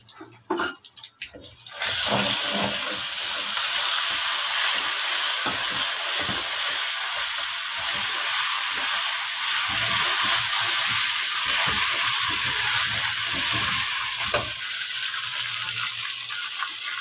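Onions frying in a pan while cooking aloo gobi, a steady loud close sizzling hiss that starts abruptly after a brief quiet moment and continues evenly throughout, with no voices.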